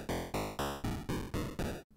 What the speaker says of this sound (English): There are four built-in generators of audio: the square wave, sawtooth, and two pokey chip styled noises.